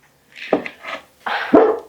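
Pet dogs bark indoors, two sharp close barks each followed by a short trailing yelp, in a quick uneven pair with no talking over them.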